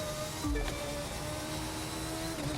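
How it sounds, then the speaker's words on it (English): A steady engine drone with a high, tonal whine holds throughout, a brief low thump near the start, like an F1 racing car heard from the cockpit in the game The Crew 2. "I just love the sound of the F1 car,"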